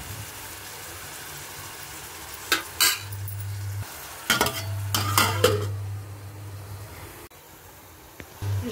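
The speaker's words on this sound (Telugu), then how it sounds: "కరివేపాకు వేసేస్తున్నాను" Curry leaves with onion and green chili hit hot oil for a capsicum, potato and tomato curry. Several short bursts of crackling spatter and stirring scrapes come over a low steady hum, with a quieter stretch between bursts and no speech.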